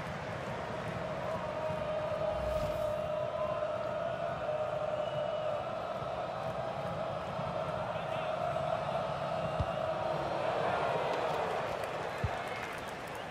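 A steady stadium crowd roar from the FIFA 19 video game during an MLS match between FC Dallas and Toronto FC swells throughout, a broad continuous din beneath a commentator talking.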